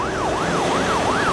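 A loud wailing ambulance siren sweeping up and down in a regular rising-falling cycle, close and continuous over traffic noise.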